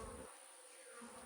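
Honey bees buzzing faintly around hive frames moved to a new beeyard, a soft continuous hum with no voices.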